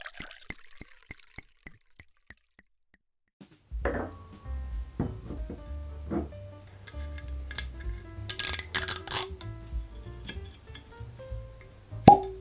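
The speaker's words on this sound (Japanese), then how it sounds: "このリンカーン・ヘンダーソン氏が追い求めたポートワインカスクフィニッシュの1本、プレミアムウイスキーを開封していきましょう。" A bottle of Angel's Envy bourbon finished in port wine casks is opened, giving a close glassy clink and cap handling, then scattered knocks, a low rumbling handling noise and a bright rattle of glass near the end.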